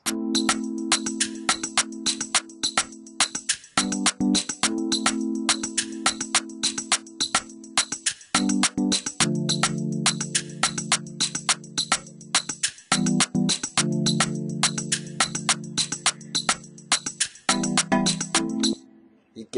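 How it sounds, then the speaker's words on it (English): A mellow vintage electric piano holds soft sustained chords over a steady, busy drum beat with crisp hi-hat ticks, looping for several bars. "I selected a soft vintage EP"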